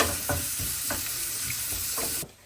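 Food sizzling steadily in a hot pan while a utensil stirs it in regular scraping strokes, close and loud, ending abruptly.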